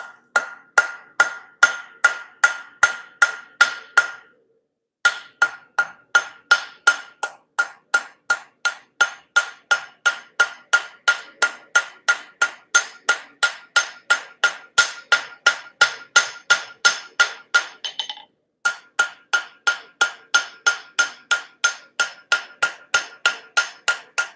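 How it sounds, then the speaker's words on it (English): A hammer strikes metal leaves on a forged hook in steady, rapid, ringing blows, close and alone, with two brief pauses in the rhythm. "Smack that leaf down."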